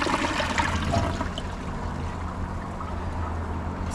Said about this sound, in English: Here's another flush, how it flushes now.